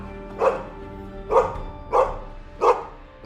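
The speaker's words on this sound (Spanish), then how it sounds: "dio un ladrido y meneó la cola enérgicamente" A dog barks in a Spanish-language audio drama, four sharp yips spaced about a second apart, close and clear over a quiet background with no speech.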